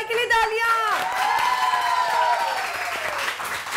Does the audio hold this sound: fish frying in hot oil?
no